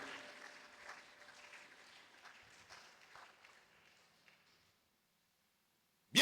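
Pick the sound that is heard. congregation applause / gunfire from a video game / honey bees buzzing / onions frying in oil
congregation applause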